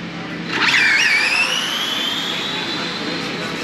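RC drag racing cars speed down a drag strip at a New England racing event, a high, whining motor scream rising sharply then sustained loud and steady as they pass.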